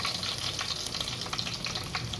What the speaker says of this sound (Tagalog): Magluluto po tayo ngayon ng pansit para po pananghalian namin.